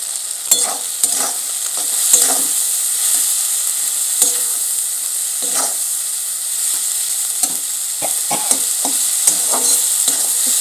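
Onions fry and sizzle loudly in a pan with turmeric, dried red chili powder and cumin powder, a steady close hiss broken by repeated scraping stirs, with no talking.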